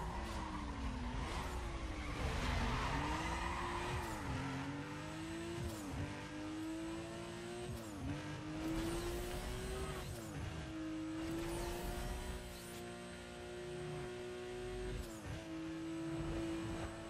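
Race cars roaring through a drag race in Need for Speed: Most Wanted, engines revving hard and climbing through repeated gear shifts with sharp drops between them, loud and continuous with occasional tire noise.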